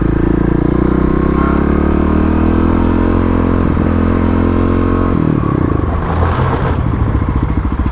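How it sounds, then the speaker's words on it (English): Motorcycle braking hard in an emergency stop, the rear wheel locking up: a loud steady engine drone that drops in pitch as the bike slows, with rough clattering and a brief skidding rasp near the end. "let's go ahead here and try and practice some emergency braking."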